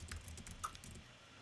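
A single press of the Shift key on a computer keyboard while trim-editing in Adobe Premiere, a soft close click standing out briefly over a low, steady background hum.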